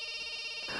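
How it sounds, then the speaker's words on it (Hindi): A telephone rings in a Hindi romantic action film scene, a steady bright electronic ring filling the short moment, fairly loud with no voices over it. "अरे बार बार फोन बज रहा है, उठाते क्यों नहीं हो?"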